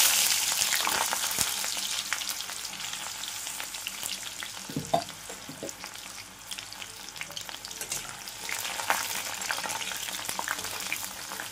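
Onions sizzle steadily in hot oil with whole spices such as cloves, cardamom, a piece of cinnamon and bay leaves, frying for a chicken curry, with a dense continuous crackle, occasional stirring scrapes and no speech.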